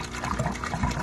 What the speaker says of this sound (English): At 2/3 full, the airlift began pumping water into the bin